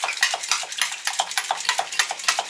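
Push-down whisk whisking, a rapid rhythmic series of metallic clicks and rattles as the plunger is pumped repeatedly, close and fairly quiet.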